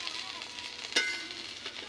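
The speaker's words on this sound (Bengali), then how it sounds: "আমার মাছ ভাজা হয়ে গেছে" Pieces of magur catfish fry in hot oil in a home kitchen, a close, continuous sizzle with a brief sharper crackle near the middle.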